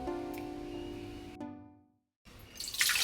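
Water runs steadily into a pot for making urad dal porridge, the stream's tone rising and thinning, then stops briefly before a splashy rush resumes louder.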